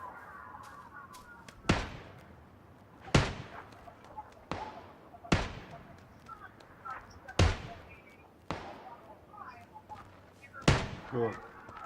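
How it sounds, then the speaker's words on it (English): Gunshots in the video game PlayerUnknown's Battlegrounds, about eight sharp single cracks spaced irregularly a second or two apart, loud and distinct over quieter game ambience and occasional voices. "Oh, somebody shooting."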